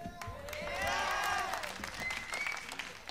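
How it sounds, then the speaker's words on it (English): Audience applause at a live blues concert in Japan in 1977 swells over a few seconds, a dense wash of hand claps with some cheering under a sustained tonal sound. "What about another round of claps"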